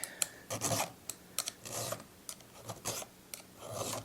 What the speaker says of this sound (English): we're going to take these rakers down. We may end up using the hand file tool.